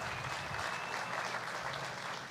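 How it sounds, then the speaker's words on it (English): A crowd at a construction milestone ceremony applauds the workers, a sustained, evenly textured wash of clapping from many hands that carries steadily from start to finish, with no talking. "A big round of applause to those people that make it happen."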